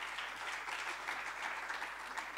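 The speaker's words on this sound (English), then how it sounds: "I think this one deserves a round of applause." Audience applause during a conversation event with President Thabo Mbeki, a steady, fairly faint wash of clapping from a crowd, heard alone.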